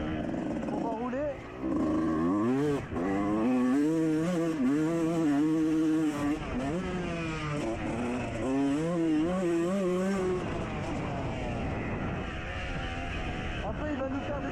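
Motocross motorcycles lapping a practice track at Amigny-Rouy, engines revving and rising in pitch in repeated sweeps, loud and close, with a steady drone throughout.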